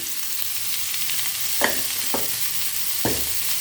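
Potato pepper fry in a pan, with a steady sizzle broken by three distinct scraping stirs of a spatula against the metal, close and clear, without any speech.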